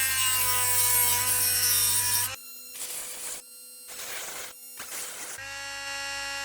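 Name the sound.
trimming a slot car motor pinion shaft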